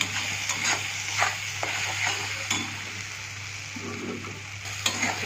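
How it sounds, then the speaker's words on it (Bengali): Spices sizzle and crackle in a hot pan, with a steady frying hiss and occasional scrapes of stirring close by. "দেখুন মশলাটা অনেক পরিমাণে ভাজা হয়ে গেছে।"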